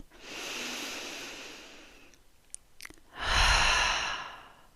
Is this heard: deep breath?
yes